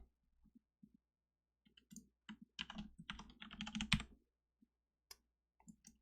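Keys tapped on a computer keyboard, a few scattered clicks, then a quick dense run of typing, then more sparse taps, faint and close with no voices.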